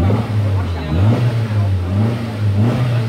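Nissan Sentra 180 automatic with an aftermarket throttle controller fitted and its check-engine light on, revving under the throttle. A steady, loud low engine drone runs throughout with a few rising swells.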